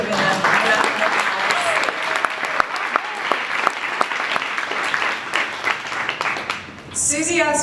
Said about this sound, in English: I don't know if we've already given them a round of applause